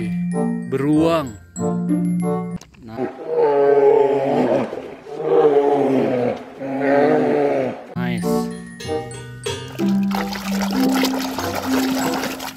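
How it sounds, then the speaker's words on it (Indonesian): A bear gives several loud, drawn-out roaring growls in a row, followed by brief jingling and splashing effects. "Beruang."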